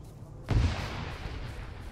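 Rocket launcher fire in the military video game ArmA 3, a single loud, deep boom followed by a rumbling tail that slowly fades into the background.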